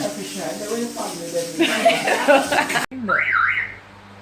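A car alarm in Jamaica, heard first under loud overlapping talk and then alone as a warbling, rising-and-falling electronic whoop.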